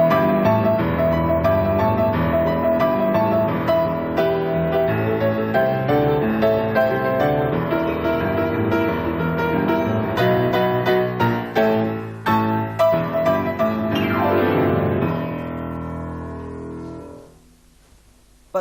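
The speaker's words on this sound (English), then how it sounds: "You also want a nice, loud, bright sound like this." A piano is played loud and bright, with a fast cascade of ringing chords and runs at full volume. It builds to a final flourish and then rings out and fades into near silence.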